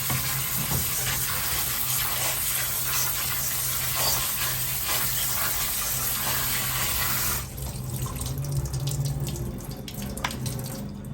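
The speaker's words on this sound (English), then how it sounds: "we're just going to simply clean it with cold water" Cold tap water runs steadily over lamb shanks in a kitchen sink, a continuous splashing gush that shifts in tone partway through as the meat is moved under the stream.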